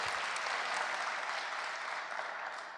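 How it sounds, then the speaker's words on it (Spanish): A church congregation applauds with dense, sustained clapping from many hands, even and loud throughout before tapering slightly at the end. "Dale un aplauso al Señor."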